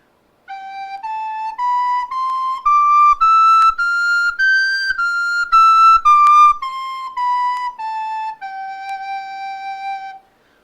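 A Yamaha soprano recorder plays an octave scale from low G up to high G and back down, each note single-tongued and clearly separated, loud and close with nothing else heard.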